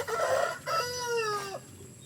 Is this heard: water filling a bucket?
no